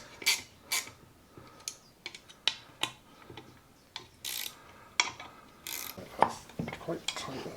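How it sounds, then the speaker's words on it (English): Bolts are done up on a chainsaw during a rebuild, heard as scattered close clicks and ratcheting ticks at an irregular pace in a quiet room. "I'm going to just do up the bolts and try pulling that in."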